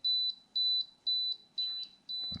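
A handheld electronic remote for an Outback Fury unit beeps in short, high, evenly spaced pulses, five close repeats about half a second apart, ending with a brief low thump.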